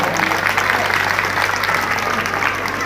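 Light applause from an audience at an Uttarakhand festival event, a steady wash of scattered hand claps lasting a few seconds at moderate level.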